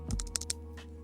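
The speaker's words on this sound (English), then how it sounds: "So we're going to type in our domain name." Someone types a domain name on a computer keyboard: a quick run of about six to eight light key clicks close to the mic, then a lone tap after a short pause, in a quiet room.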